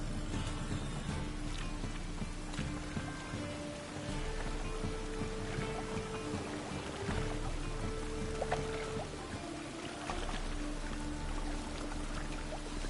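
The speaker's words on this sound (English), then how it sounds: "Rain again." Rain falling in The Witcher 3 video game, a soft continuous patter of drops on surfaces over a low background drone, fairly quiet and steady with faint scattered splashes and no speech.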